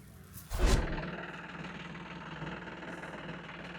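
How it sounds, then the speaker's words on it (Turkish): A farm tractor engine runs while hauling alfalfa bales in a village field, a steady mid-pitched idle-like rumble with a brief louder thump near the start, then an even drone with no talk. "Ben traktörü sürüyorum."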